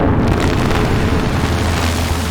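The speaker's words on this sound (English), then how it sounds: "a patch that comes with a Rolly keyboard that playing with the expression becomes this basic fake explosion" A dense, rumbling synthetic explosion from a Roli keyboard patch, a sustained roaring burst of noise with heavy low end, loud and alone.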